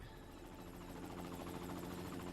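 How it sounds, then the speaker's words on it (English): A helicopter in the video game Secret World Legends drones with a steady, faint rotor thrum and engine hum throughout, with no one talking over it. "Oh, the helicopter."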